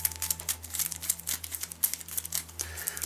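Playing cards from a print-and-play Zombie in My Pocket game shuffled by hand, a close, continuous crinkly riffling with irregular soft bursts of paper rustle over a steady low hum.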